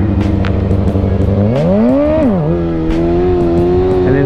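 A motorcycle engine revs loud and close during a seat-stander wheelie, holding a steady note, then surging up in pitch as the throttle opens and settling back to a steady drone.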